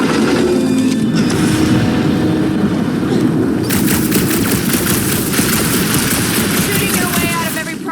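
Gunfire in the Guardians of the Galaxy video game, loud and steady: rapid bursts of automatic fire pound on without a break, with rumbling booms mixed in and no clear talk.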